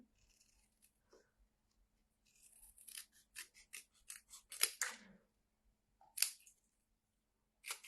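Scissors cutting through paper for a handmade stamped greeting card, a series of close crisp snips and slicing strokes in quick rhythm, with quiet pauses and a couple of separate later cuts.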